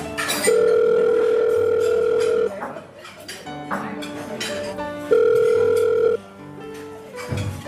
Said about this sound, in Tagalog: Tawagan ko nga si Laida.